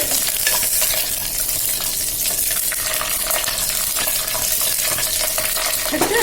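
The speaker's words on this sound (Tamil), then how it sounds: "கடுகு போட்டுக்கிறோம். நெக்ஸ்ட் கருவேப்பிலை போட போகிறோம்." Mustard seeds and curry leaves sizzle and crackle steadily in hot oil for rasam, a dense, continuous frying hiss heard up close with no voices.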